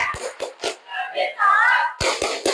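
Children doing the rhythmic 'tepuk anak soleh' group clap in a religious lesson, with a few sharp claps separated by chanted voices, then a quick burst of claps at the end, close and clear.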